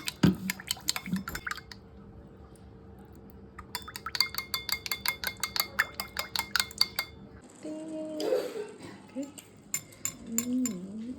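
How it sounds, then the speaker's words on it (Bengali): Soy sauce poured into a dish while cooking, with a brief liquid splash amid repeated sharp clinks of utensils and cookware in a home kitchen. "আমরা সয়া সস ঢেলে দিচ্ছি।"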